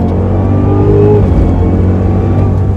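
Inside a Cadillac CTS-V3 on a backroad, the engine sends a loud, steady low drone and rumble that rises slightly as the car accelerates, with no clear break for a downshift.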